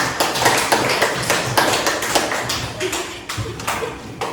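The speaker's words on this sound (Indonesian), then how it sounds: "tepuk tangan buat Nadia" A classroom of students claps for a classmate after a discussion, a loose, uneven patter of individual hand claps and taps, some sharper than others, fading slightly near the end with faint voices among them.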